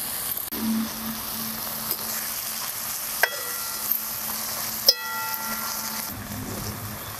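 Onion and tomato fry in a pan with a steady soft sizzle. A few sharp clinks of a stirring utensil against the metal ring out over it.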